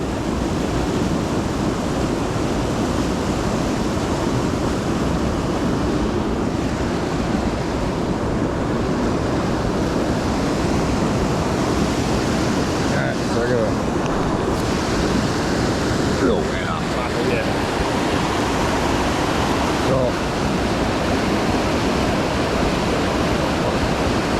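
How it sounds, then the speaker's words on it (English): Rushing whitewater roars in a steady, loud wash of broadband noise that continues throughout, with a few brief faint knocks and no talk. "So this is a lot of whitewater right here."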